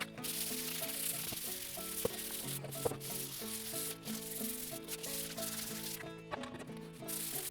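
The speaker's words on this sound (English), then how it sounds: "So we've got our pipe all sanded." Steady sanding of a pipe, a continuous scratchy rubbing that keeps an even level throughout, heard close with no talking and a few light knocks along the way.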